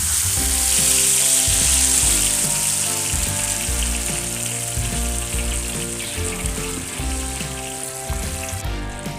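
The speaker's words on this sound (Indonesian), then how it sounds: "Kita masukkan cabenya." Chili peppers frying in hot oil with aromatic shallots for a Padang-style sambal with anchovies and stink beans, giving a loud, steady, continuous sizzle that tapers slightly toward the end. No speech.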